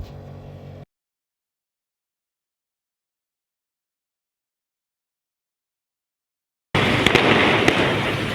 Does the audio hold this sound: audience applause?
no